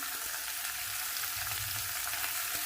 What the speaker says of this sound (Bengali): আমি খুব সুন্দরভাবে ভাজা ভাজা করে নেব